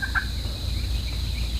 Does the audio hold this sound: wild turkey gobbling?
yes